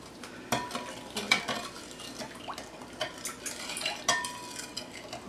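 Sugar stirred in a bowl for Finnish pulla coffee bread dough: light clinks and scrapes of a utensil against the bowl in an uneven rhythm, close and fairly quiet, no speech.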